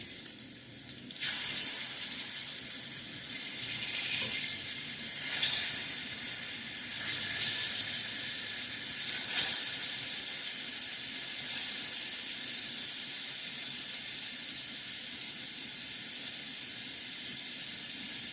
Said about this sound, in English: So I'm gonna let it fry some more